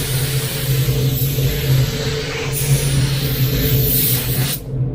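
A spray gun laying solvent base coat onto a car panel, a steady loud hiss of atomised paint with a low compressor hum beneath, cutting off abruptly at the end, no talking.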